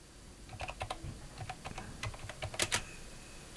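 Keys tap in quick, uneven bursts on a nearby computer keyboard as a prompt is typed, the clicks fairly soft, with a couple of sharper strokes late on.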